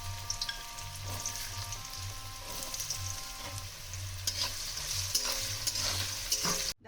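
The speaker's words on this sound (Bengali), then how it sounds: "এবার এই আলুটাকে একদম আমি লাল লাল করে ভেজে তুলে নেব।" Potatoes frying in hot oil in a pan, a continuous bright sizzle with crackling spatters and occasional stirring scrapes, close up, with a low rhythmic hum underneath.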